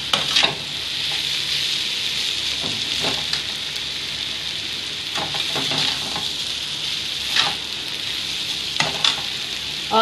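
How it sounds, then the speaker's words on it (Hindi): Ingredients for potli chaat roasting in a pan, a steady soft sizzle with several brief stirring scrapes scattered throughout, moderately close and with no talking. "और इसको हम अब थोड़ी देर भूनेंगे"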